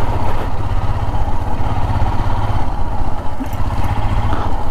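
Royal Enfield Himalayan BS6 motorcycle, after its third service, with its engine running in a steady, loud, close low thumping rumble that carries on without a break.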